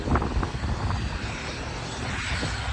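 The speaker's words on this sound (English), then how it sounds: "Here's the plane's gonna take off. By the way, it's just the engines. It's kind of loud, the engines." Steady loud roar of airplane engines as a plane takes off near an airport, heard continuously from street level with wind buffeting.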